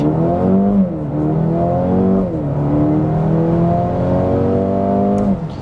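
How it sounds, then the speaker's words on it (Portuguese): A Mercedes-AMG CLA 35 4MATIC accelerating hard from a launch-control start in comfort mode, its engine rising steadily through several upshifts, loud and close, with no talk. "Vamos fazer a nossa largada estolada e vamos ver como o carro se comporta nos três modos."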